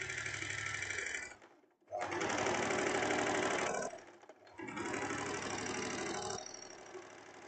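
Overlock sewing machine stitching the seam of a tank top, running loud and close in three steady whirring bursts separated by short pauses, with the motor's hum easing down at the end.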